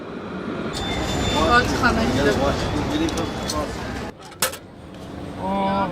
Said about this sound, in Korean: 예루살렘의 새로운 상징 트램입니다.